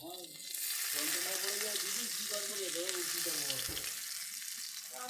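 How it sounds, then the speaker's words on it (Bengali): Fish sizzles steadily in a hot pan on a home stove, a dense close crackle of frying that holds for several seconds with a voice faintly audible over it. "ওইদিকে মাছটা ভাজা শুরু করে দিই।"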